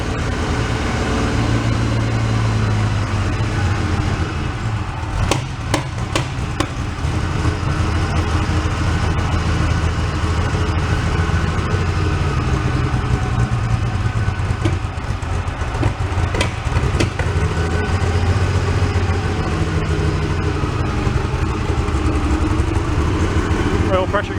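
Flood-damaged Porsche 911 engine running steadily after being revived, a continuous low idle rumble throughout, with people talking over it.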